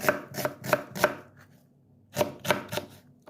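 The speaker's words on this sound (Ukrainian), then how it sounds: "І кришимо, е, як на дрібну зажарку" A knife chopping onion and carrot finely on a cutting board for a meat pie filling, a quick run of four crisp taps, a pause, then three more, close and clear.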